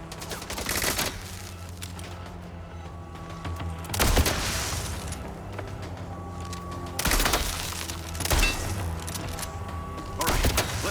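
Gunfire in the action game Mindseye, dense bursts of shots and heavy impacts repeating every few seconds over a constant background of game ambience and music, loud and close.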